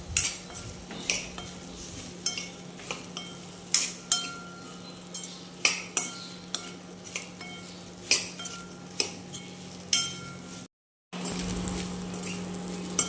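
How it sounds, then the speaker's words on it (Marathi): Cut okra being stirred in a pan, with a utensil scraping and clinking against the metal at a steady rhythm of regular strokes over a faint sizzle, close and moderately quiet. "त्यात कट केलेली भेंडी टाकून घ्यायची व एकजीव करून घ्यायचं"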